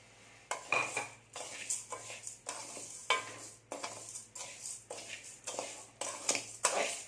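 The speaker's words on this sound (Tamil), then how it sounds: "லேசாக கிளறி விட்டுக்கிட்டே இருந்தீங்கன்னா நல்லா வறுந்து போயிடும்" Rice and chana dal are stirred and dry-roasted in a pan over medium heat, giving repeated scraping, rustling strokes in a steady rhythm with a faint background hum and no talk.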